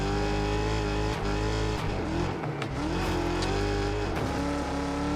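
Race cars roaring through a track in the video game Wreckfest 2, engines droning loud and steady with revving shifts and tire noise, continuous and close with no talking.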